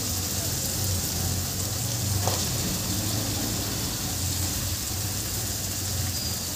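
Finely chopped potatoes, skins on, going into a pan of frying bitter gourd, giving a dense, steady sizzle that holds at an even level throughout, close and continuous, with one brief clink midway.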